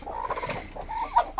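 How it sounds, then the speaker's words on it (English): A purebred Rhode Island Red hen clucks close by, soft rising and falling vocal calls repeated over a quiet farmyard background. "this is a lovely purebred Rhode Island red hen"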